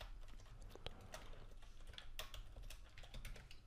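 Keys clatter in quick irregular bursts as code is typed on a computer keyboard for an ESP32 Arduino project, close and moderately loud against a low steady hum, with no talking.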